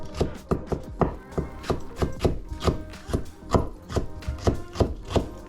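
A knife chops a jalapeno on a cutting board for pork carnitas, a steady run of about a dozen sharp, close knocks at an even, quick rhythm, with no talking.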